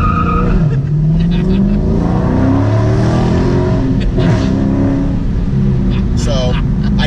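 A Dodge Charger Daytona 392 V8 in sport mode with stability control off roars loudly from a light throttle tap, its engine note rising and falling, while people inside the car talk and laugh over it.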